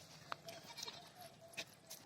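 Goat bleating in short, sharp calls spread across about two seconds, fairly faint, with a rural outdoor feel.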